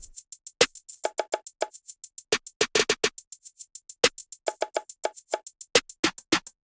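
Programmed percussion hits from a trap drum kit fall in a tight repeating triplet pattern, crisp bright transients spaced evenly with short gaps, loud and dry with no voices.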